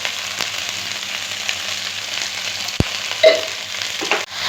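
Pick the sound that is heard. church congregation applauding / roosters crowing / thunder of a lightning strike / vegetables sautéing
vegetables sautéing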